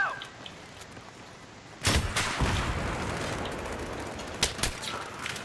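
Machine gun fire in the video game Battlefield 3: quiet at first, then a loud sustained burst of rapid automatic shots that keeps rattling, with a few sharper cracks near the end.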